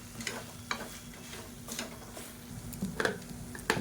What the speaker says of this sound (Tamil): இப்போ அந்த சாதத்தை போட்டு நல்லா மிக்ஸ் பண்ணிவிட்டுக்கலாம்.